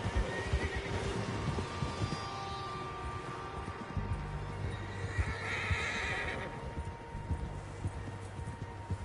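Horses in the Western video game Red Dead Redemption whinny and neigh over a busy layer of hoofbeats and game ambience, with a couple of clear whinnies standing out mid-clip.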